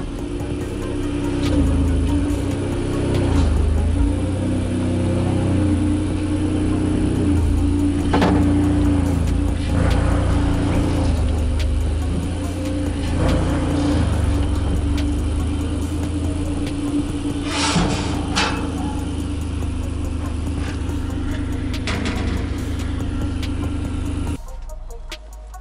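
Car driving along the road to a repair shop, with steady low engine rumble and road noise heard from inside the cabin, continuous and fairly loud until it cuts off near the end.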